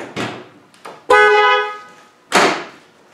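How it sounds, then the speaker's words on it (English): Two loud honks of twin-tone car horns on a 200Tdi vehicle with a blended two-note tone, the second longer and steadier, separated by a brief pause and a faint knock. "Twin tone horns."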